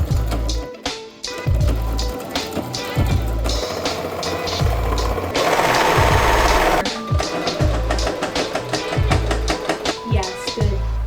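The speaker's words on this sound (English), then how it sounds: "I'm going to sew that together and then overlock it." A sewing machine stitches a pinned dress tier, its needle tapping in fast, regular bursts that start and stop, joined for a stretch by the louder, denser whir of an overlocker.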